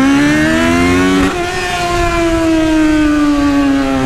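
Yamaha XJ6 motorcycle engine roaring loud and close, a steady high drone that shifts pitch partway through as revs change, with no talking over it.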